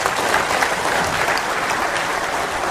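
A lecture audience at a Korean history academy applauds the speaker after his talk. Continuous, fairly loud clapping from a large crowd carries evenly from start to finish.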